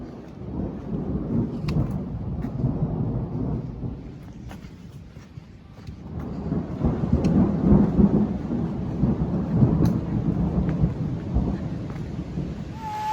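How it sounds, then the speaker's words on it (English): Steady heavy rain pours down on the Dismal Trail while low thunder rumbles and swells in the background, growing stronger midway through. "Here it comes. We're gonna, oh, it's raining."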